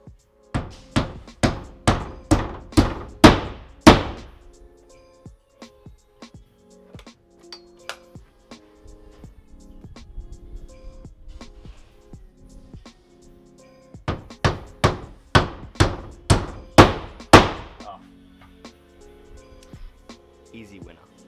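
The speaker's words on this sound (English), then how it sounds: "I'll do like a hammer comparison real quick between this hammer that I made and my usual S-Twing 20 ounce." A homemade hammer and a 20-ounce framing hammer drive nails while hanging gyprock drywall, in two close bursts of rapid, loud, evenly spaced strikes separated by a quieter pause with faint shuffling.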